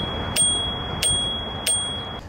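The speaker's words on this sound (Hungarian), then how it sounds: "van csengőnk is, amivel tudjuk jelezni a járókelőknek, vagy éppen más rollereseknek, hogy mi éppen érkezünk" Three crisp dings from the handlebar bell of a Ninebot Kickscooter D18E electric scooter, evenly spaced about two-thirds of a second apart, close and clear over faint background noise.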